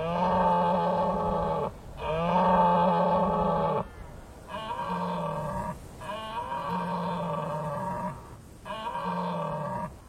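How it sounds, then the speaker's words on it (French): Red deer stags bellow during the autumn rut in Scotland, four long, deep, moaning roars in succession separated by short pauses, fairly close and clear. "En octobre, toute l'île vibre au son des brames langoureux."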